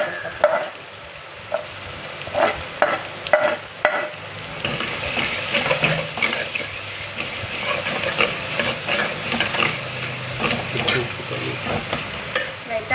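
Tomatoes being sautéed in a hot pan give a steady close sizzle, with repeated scraping stirs of a spatula over the frying hiss for most of the stretch.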